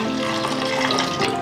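Water poured onto cold brew coffee concentrate, a continuous close splashing pour with a rising liquid tone across the whole stretch, heard alone without talk.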